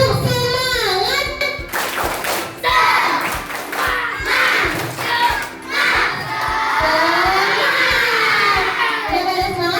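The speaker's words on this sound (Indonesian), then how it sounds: "Tepuk semangat" Schoolchildren in a classroom shout the 'tepuk semangat' chant together, loud excited voices mixed with rhythmic group clapping that keeps a steady beat throughout, dense and close.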